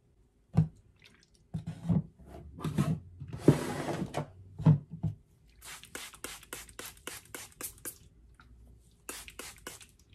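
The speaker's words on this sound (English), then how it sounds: "Rinsed off my brush so I didn't have any product from the curly side." A hair brush is rinsed under running water, with a burst of splashing and scattered drips, followed by a quick run of sharp, close taps and clicks, probably the brush being shaken or knocked against a sink.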